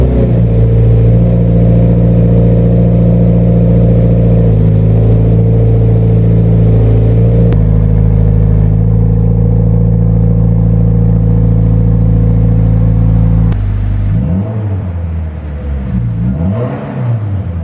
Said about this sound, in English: number 2 is gonna be a turbo back exhaust